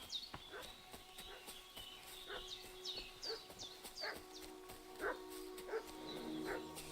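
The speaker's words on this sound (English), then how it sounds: "What's the dog barking at?" A dog barks in the medieval village world of the video game Kingdom Come Deliverance 2, giving a run of short, sharp yaps and yips at a steady pace over ambient game sound.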